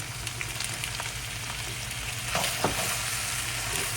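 Chicken fried rice is stirred in a hot pan. It sizzles steadily and close by, and a couple of louder scrapes from the spatula come near the end. No one speaks.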